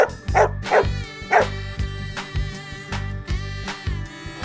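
Small dogs bark and yip in a quick, rhythmic series of sharp calls over a steady low hum in the background.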